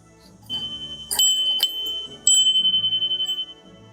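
A bell hung over a door, tied to a net, rings in a few bright strikes, then gives a quick run of rapid jingling pulses that fade out, close and clear with no talking.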